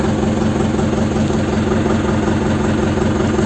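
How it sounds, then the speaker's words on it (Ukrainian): A Dongfeng 404 tractor's diesel engine idles steadily and loudly, a continuous low rumble with a rhythmic throb and no talking. "Трактор запустився, знову працює стабільно."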